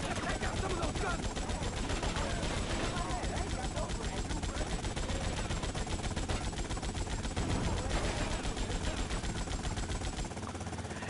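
Rapid automatic gunfire from a GTA Vice City shootout on the PS2 rattles continuously and loudly in dense bursts, with engine noise underneath.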